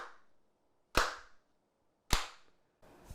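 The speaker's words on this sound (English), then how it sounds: "Okay, I'm making those three claps." Three sharp, isolated hand claps spaced about a second apart, each crisp and loud with a short room echo fading into silence between them.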